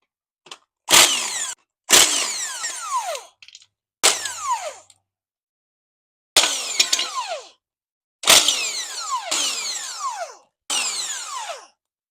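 A power driver spinning out hex number 6 bolts from a Permobil M3 wheelchair during disassembly, in six or seven loud, close whirring bursts of about a second each with silent pauses between.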